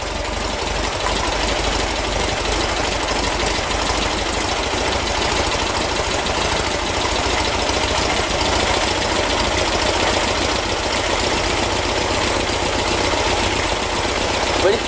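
A vintage car engine idles steadily while its carburetor mixture and air screws are being adjusted, a loud, continuous rough running note with a slight knocking texture that holds throughout without change.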